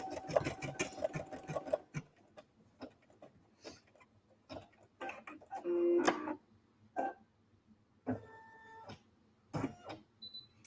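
An embroidery machine stitches into a paper card, giving a fast mechanical whirring run of needle strokes at first, then intermittent bursts, clicks and short motor tones, close but fairly quiet with no voices.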